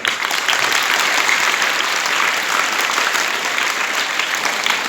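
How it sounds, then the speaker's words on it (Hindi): Steady applause from an audience honouring teachers at a government higher secondary school event in Nimaj, Rajasthan, a continuous dense clapping throughout with no talk. "ये तालियां अपने आप बजी हैं इनके सम्मान में"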